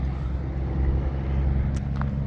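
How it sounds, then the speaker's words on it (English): A truck passes on a road near a bridge over the Rio Grande in South Texas, giving a steady, moderately loud low engine and tyre rumble with a couple of brief higher squeaks near the end and no talk. "There's a truck."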